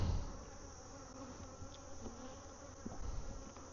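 Honey bees in a beehive in a bee yard hum as a steady, soft, even buzz throughout, with no voices.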